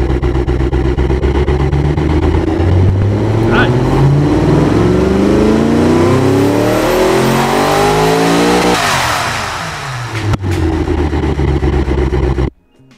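A turbocharged 808 hp engine in the Automation car game revs hard, its pitch climbing steadily for several seconds before dropping off and cutting out abruptly near the end.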